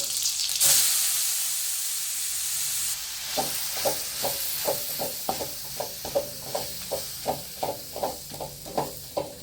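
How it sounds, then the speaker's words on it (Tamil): Grated carrot fries in ghee in a pan for carrot halwa, giving a steady close sizzle that soon turns into a regular rhythm of stirring scrapes, about one every half second. "மீதம் இருக்கிற கீழே எக்ஸ்ட்ரா கீ ஊற்றி கிரேட் பண்ணி வச்சிருக்கிற கேரட்டை ஆட் பண்ணிட்டேன்."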